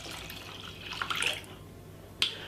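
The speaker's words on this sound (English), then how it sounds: "add 1 glass of water." A tall glass of water poured into a cooking pot of gungo peas for Jamaican rice and peas, a short splashing pour followed a moment later by a brief second splash, close and clear with no talking.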